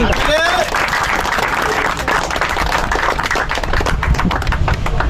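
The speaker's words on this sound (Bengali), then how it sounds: "ওনার জন্য একটা গ্রেট হাততালি দিন সবাই" A crowd at a fishing club competition applauds a winner with loud, dense clapping, and voices call out over it.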